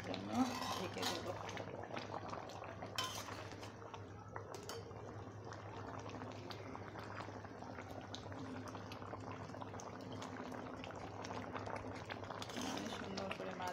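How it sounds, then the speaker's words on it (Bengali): Vegetable curry with chalkumra (ash gourd) bubbles in a pot at a soft, quiet simmer, with faint steady burbling, a low background hum and a few light clinks of utensils. "আমার সবজিটা সুন্দর মতো ফুটে গেছে"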